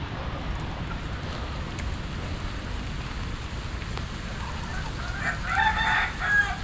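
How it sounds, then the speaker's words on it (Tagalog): Chickens in a backyard coop cluck steadily, and a rooster crows near the end. Rain patters throughout as a constant hiss beneath the birds. "Mga manok natin."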